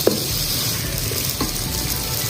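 Soy sauce goes into a hot pan of chicken Manchurian, producing a steady, close sizzle with a small tap of a utensil at the start.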